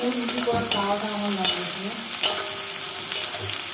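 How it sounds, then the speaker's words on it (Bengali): Crushed garlic fries with potatoes in a pan, giving a steady close sizzle broken by a few spatula scrapes and stirs, with no voices. "আলুটা ভাজা হয়ে গেছে তখন রসুনটা দিলাম"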